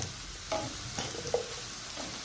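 Onions frying in a pan, a soft steady sizzle with a few light stirring scrapes, quiet and close, with no talking.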